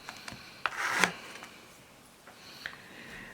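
A scraper drags across nail polish on a stamping plate in a few soft, close rasping strokes, the loudest a short scrape in the middle, with quiet between and no talking.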